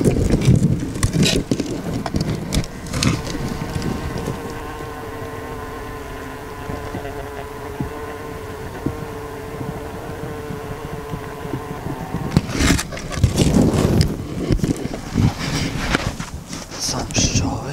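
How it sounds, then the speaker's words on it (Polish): Honeybees in a winter cluster inside a hive in January, a low, steady hum heard close up, framed at the start and end by louder handling and rustling noises. "Słychać pszczoły."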